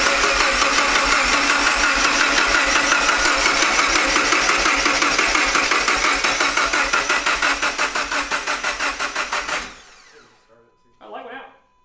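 An engine is cranked by jumping the starter with a screwdriver in a shop, giving a loud, steady churning run for about ten seconds that cuts off abruptly, followed by a brief softer burst.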